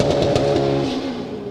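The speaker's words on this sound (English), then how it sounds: "race cars starting a giant hill climb section right behind" A race car engine idles and revs at the Pikes Peak hill climb start line in 2022, with a steady, harmonic-rich drone that sags in pitch toward the end, loud and fairly near.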